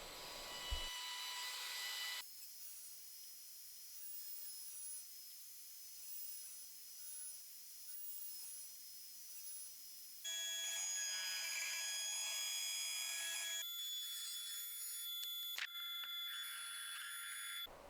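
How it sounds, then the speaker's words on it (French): Wooden hinges fed along a guide across a router table in a portable workshop set-up: a steady, loud high-pitched cutting whine that shifts in tone and level between passes, with no talking. "je les passe directement sur la défonceuse"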